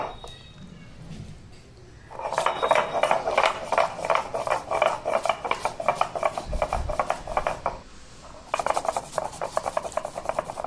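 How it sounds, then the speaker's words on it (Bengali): Soaked poppy seeds and mustard being ground on a shil stone, a steady run of gritty rubbing strokes close by that pauses briefly and then resumes, over a faint background hum. "এবার আমি ওটা শিলের মধ্যে খুব ভালো করে বেটে নেব"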